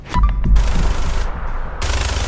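Minigun fire in the video game Fallout 4, a loud continuous rattling burst that runs for about two seconds with dense, rapid shots, heard alone without talk.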